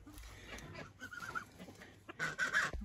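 Geese cackling on a rural garden plot, a few nasal honking calls rising over a low outdoor murmur, louder and closer near the end.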